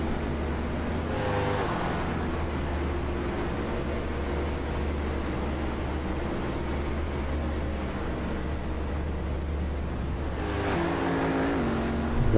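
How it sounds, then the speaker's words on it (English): GT race cars in a racing simulation at Sebring roar past on track, engines droning steadily, with louder passing sweeps near the start and again near the end. "Some of these cars going by"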